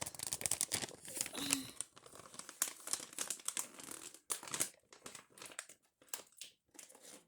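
A wrapped gift package is opened close up, with quiet, irregular bursts of paper crinkling and rustling, some brief tearing-like crackles, and short pauses between handling.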